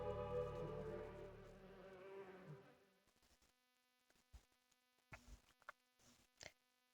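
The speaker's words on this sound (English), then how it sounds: "Sounds like there's something busy buzzing" A buzzing insect in The Witcher 3 on Fyke Isle, a steady drone at first that fades within a few seconds, followed by scattered faint clicks and soft sounds.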